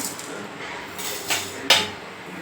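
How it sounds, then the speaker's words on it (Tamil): Roasted rice being tipped from a pan into another cooking vessel, with a couple of sharp metallic clinks and a scraping rush of grains standing out over a soft kitchen background. "இப்போ இது வேறு ஒரு பாத்திரத்தில் மாற்றிக்கலாம்"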